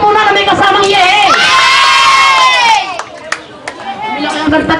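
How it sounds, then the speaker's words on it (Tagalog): Children at a birthday party cheer together in a loud, high, sustained shout of "yeh" that rises and then falls off. Scattered claps and chatter follow, up close in a busy room. "Palakpak muna na may kasamang yeh."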